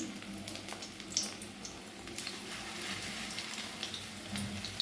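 Onion fritters (peyaji) in gram flour batter frying in hot oil, a soft continuous sizzle with occasional pops, fairly quiet and close.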